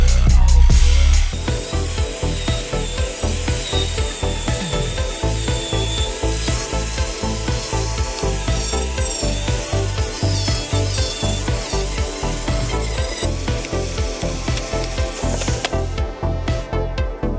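Grinder working foam set in hardened resin, a loud, continuous rough abrasive grinding with rhythmic scraping pulses throughout, no talk.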